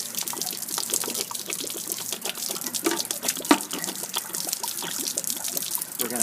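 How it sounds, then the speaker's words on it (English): Water pouring steadily out of a travel trailer's steel water heater tank after its drain plug, an anode rod, is pulled, a continuous close splashing trickle with small irregular spatters. "Now we're removing our drain plug, which is also an anno rod."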